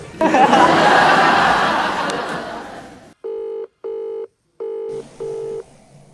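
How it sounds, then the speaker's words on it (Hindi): A phone call on speakerphone rings out unanswered: four evenly spaced electronic ringback tones, clear and close, following a stretch of louder background noise and laughter. "देखो टाइम पे कोई फोन नहीं उठाएगा। आपका कॉल नहीं उठा रहा है।"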